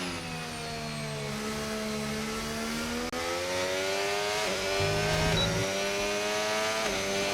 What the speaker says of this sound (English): engines fired up